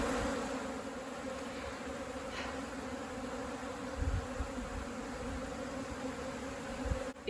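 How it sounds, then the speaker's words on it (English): Robber honeybees buzz around a rescued native honeybee colony in Mallorca, a faint continuous hum with a few louder passes close by. "So the robber bees will come."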